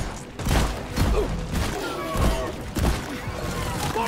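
Co-op shooter video game gunfire, a rapid volley of loud shots and thumps in bursts about every half second, with a voice mixed in underneath.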